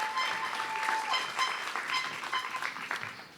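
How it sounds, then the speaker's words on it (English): A crowd applauds steadily, a dense wash of clapping that holds at a moderate level throughout. "get a round of applause"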